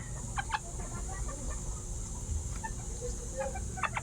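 Soft, scattered clucks and short calls from a few hens, fairly close, over a steady low hum and background noise.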